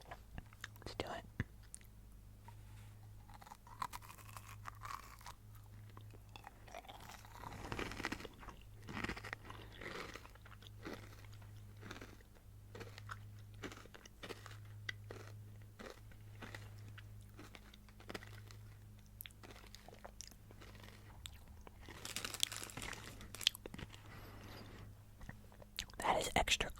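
Close, crisp crunching of kohakutou crystal candy being bitten and chewed, sharp cracks in irregular bursts, with soft whispering between bites.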